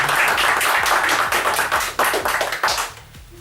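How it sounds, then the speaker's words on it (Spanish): Audience applause at a Spanish talk on James Bond producer Harry Saltzman, a close, dense burst of hand clapping with sharp individual claps that thins toward the end. "Un aplauso"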